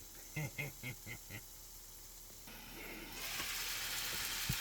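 Beef tips hitting a hot pan while cooking in a van: five short rhythmic tonal bursts, a quiet pause, then a soft steady sizzle rising and continuing to the end, with no talking.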